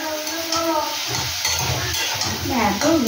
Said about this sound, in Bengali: হলুদ দিলাম, দিয়ে একটু নেড়েতে নেব